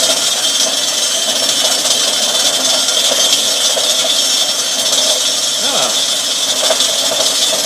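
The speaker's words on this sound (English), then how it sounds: "not bad for a cheapy little second-hand bandsaw" Small, cheap second-hand bandsaw runs steadily with a continuous broadband motor and blade whir, close and loud, with faint tonal cutting squeals midway.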